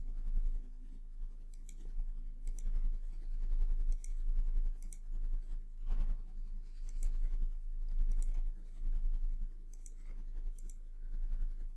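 A computer mouse clicking repeatedly while someone formats a text box in Excel, with crisp, light clicks scattered irregularly over a low steady hum, close and quiet, with no voices.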